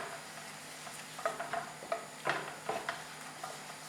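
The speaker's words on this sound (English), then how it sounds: "Let it bubble up nicely." Lemon butter sauce bubbling in a pan with pepper, dried parsley and sugar, quiet soft pops and light sizzling bursts, with a few spoon stirs and clicks close by.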